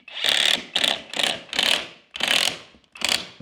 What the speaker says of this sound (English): I'm just going to fix this to the top of this wooden beam with a drywall screw